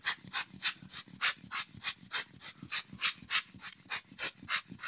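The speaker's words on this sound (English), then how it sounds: "we're going to take the hand blower and we're going to give the lens a really good blasting off" A hand blower sends short, sharp puffs of air to clear dust from a Seestar S50 telescope's objective lens, about sixteen evenly spaced close hissing bursts in quick rhythm, with no talking.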